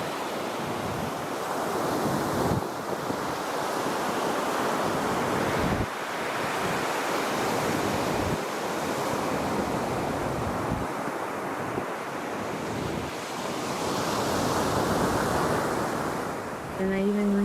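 Ocean waves crash and surge continuously close by on a beach, a loud roaring wash with gusts of wind buffeting the microphone.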